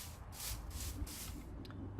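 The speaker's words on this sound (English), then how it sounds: "Sorry about the noise of my chair." A chair shifting under someone sitting at a desk gives a soft rubbing, creaking scrape in a few broad swells, fairly faint and close with no talking over it.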